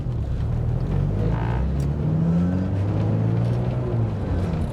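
A 1986 Porsche 944 turbo with a manual gearbox pulls away, its engine rumbling up in pitch, dropping at a gear change and climbing again, loud and close from inside the car, with no talking.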